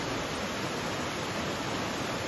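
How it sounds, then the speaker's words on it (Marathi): A multi-tiered waterfall in Spearfish Canyon in the Black Hills of South Dakota roars steadily, a dense, even wash of rushing water heard close and alone with no variation. "हा एक चित्तथरारक आणि मल्टीटायर्स वॉटरफॉल आहे"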